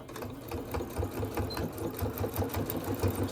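Home sewing machine stitching back and forth along the lace-trimmed edge of a towel, a close, steady rapid mechanical whir with a rhythmic needle chatter throughout.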